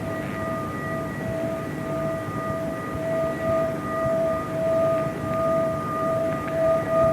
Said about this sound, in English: I'd like to demonstrate one other thing with this particular bowl, and that's just the